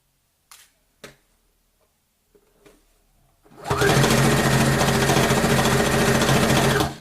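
A few faint clicks and taps come first, then a sewing machine starts up and runs steadily and loudly, stitching a zipper pouch close by.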